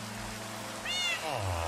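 A cat in the video game Minecraft meows twice in quick succession, the calls clear and fairly close, over a low steady background hum.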